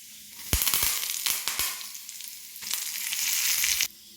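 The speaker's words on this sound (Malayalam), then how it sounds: "കടുക് ഇട്ട് കൊടുത്ത് കടുക് കൂട്ടിയിട്ടുണ്ട്" Mustard seeds crackle and pop sharply in hot oil over a steady sizzle, with a few loud bursts, close by, then the sizzling cuts off abruptly.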